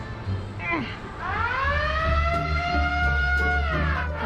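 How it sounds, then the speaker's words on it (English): A loud wailing siren rises and holds its pitch over a constant low hum, with faint voices underneath. "They even had bright lights and giant loud sirens."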